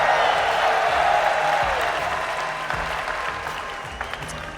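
A crowd at the RLCS 2021-2022 Rocket League World Championship applauds steadily, a dense wash of clapping that slowly fades a little, with occasional faint cheers.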